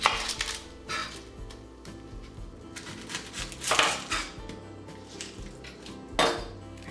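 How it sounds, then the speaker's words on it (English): A knife chops half an onion on a board for a watermelon summer salad, a handful of crisp, separate knocks spaced irregularly, with soft clinks and handling noise between them in a quiet kitchen. "we're gonna chop up an onion"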